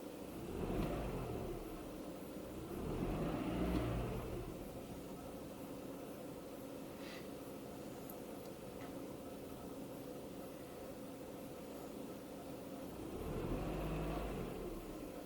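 A Renault Clio 3 engine idles on LPG, a low, steady hum close by that rises slightly a few times over the run.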